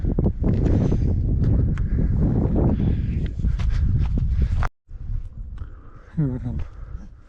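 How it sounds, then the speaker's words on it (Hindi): Strong wind gusting steadily across Rama Lake in the Astore Valley, a loud, rushing roar buffeting the microphone that drops out briefly mid-clip, with voices faintly audible underneath. "हवा चल रही है।"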